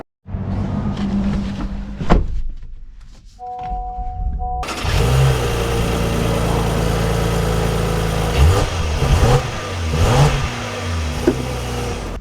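A 2025 Honda Pilot TrailSport SUV starts up with a short clunk and a brief cranking whir. The engine catches and settles into a loud, steady hum with occasional swells in revs as it pulls away.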